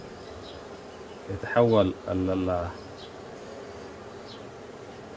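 Honeybees buzz around a hive in a steady, close, droning hum, while someone speaks briefly in the middle.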